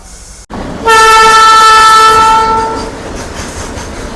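A DEMU passenger train at a station sounds one loud, sustained horn blast of about two seconds, then fades into low rail and station noise.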